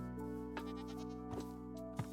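Minecraft goats give three short, bleating cries over a steady, droning in-game background hum, spaced less than a second apart and sounding faint and distant.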